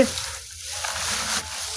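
Molasses is stirred with water into a mixture for cattle feed, making a brief, close, wet swishing and churning sound with no voices.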